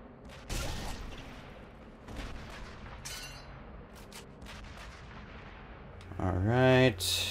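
Artillery guns in the video game Sniper Elite V2 fire in a string of heavy booming shots at intervals, each a sharp blast with a rumbling tail, over a steady battlefield bed.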